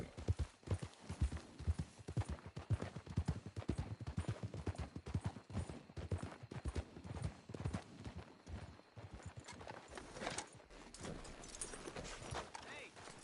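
Galloping horse in Red Dead Redemption 2, a fast, steady clip-clop of hooves running the whole way, loud and close, with occasional voices over it.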